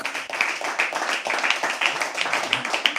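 An open mic audience at The Habitat claps steadily as a poet walks up to the stage at a live poetry event. The applause is dense and sustained, fairly close, and a host's voice is faintly present beneath it.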